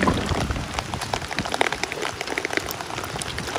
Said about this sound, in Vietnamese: Cả nhà mưa mưa giờ này mưa lớn rồi cả nhà